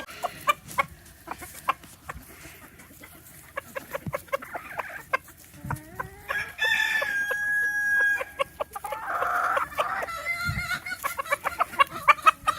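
Chickens cluck and squawk close by, with a rooster crowing in the middle and scattered pecking and shuffling sounds throughout.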